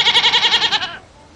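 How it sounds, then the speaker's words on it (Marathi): A goat lets out one loud, close, quavering bleat lasting about a second, then fades into quiet background. "कोणता आहे बकरा?"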